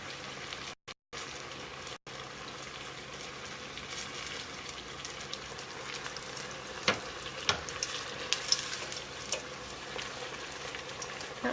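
Soft, steady sizzle of a New Mexico-style chile relleno browning in hot oil, faint and continuous with a few small pops and bubbling bursts, no talking.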